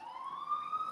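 Emergency vehicle siren on a New York street, a steady high wailing tone holding across the whole second, moderately loud and sustained with no talk over it.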